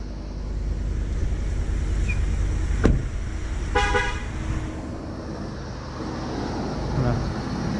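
A 2018-2020 Ford F150 with the 5.0L engine idles with a steady, close low rumble throughout, broken by a sharp click and a short horn-like tone near the middle.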